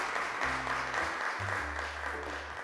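Children and a studio audience applaud steadily on a Turkish TV show, a continuous patter of clapping with faint tonal background sound underneath.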